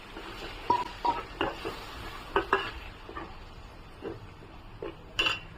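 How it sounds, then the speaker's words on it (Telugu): A spoon stirs and scrapes blended onion and tomato paste with masala as it fries in a pan for chicken fry, giving soft sizzling under scattered metallic clinks and scrapes, close and moderately quiet. "ఇందులో మనం మిక్సీ చేసి పెట్టుకున్న ఉల్లిపాయలు, టమాటా పేస్ట్ కూడా వేసి పచ్చివాసన పోయేలాగా ఫ్రై చేసుకోవాలి"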